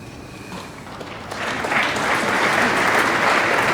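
A snooker crowd at the 2012 UK Masters final breaks into applause, the clapping swelling from a scattered start into a full, sustained ovation filling the arena.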